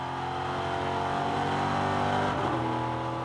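A 5.7-litre V8 EuroNASCAR race car engine roars at high, steady revs during a race, a loud continuous drone with a brief shift in pitch near the end.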